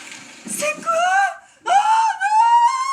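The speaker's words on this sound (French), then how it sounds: "il y a beaucoup de cris" People scream and wail in a violent scene, two long high anguished cries with a short gap between them, loud and close.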